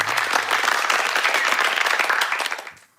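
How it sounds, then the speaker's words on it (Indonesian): Lively audience applause greets a guest at a talk show event, brisk and continuous clapping close by that dies away quickly at the end. "Boleh tepuk tangan yang meriah untuk narasumber kita."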